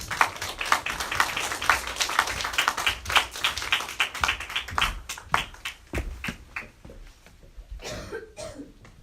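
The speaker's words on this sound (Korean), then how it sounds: "박수하며 정재욱 선교사님을 맞이하도록 하겠습니다" A church congregation at a Sunday service applauds to welcome a missionary to the pulpit, a dense patter of many hands that thins out toward the end, with a few coughs mixed in.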